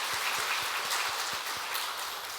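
Congregation applauding during a Sunday thanksgiving worship service in a Korean church, a steady dense patter of clapping sustained throughout, fairly soft and even with no talk over it.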